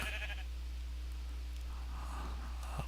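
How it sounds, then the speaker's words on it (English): A sheep in Minecraft bleats a couple of times, moderately close, over a steady low hum. "I was looking for a black sheep earlier and I forgot about this guy here"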